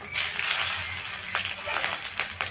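Nigella seeds and green chillies fry in hot oil with a continuous close sizzle and crackle, punctuated by a few brief stirring scrapes.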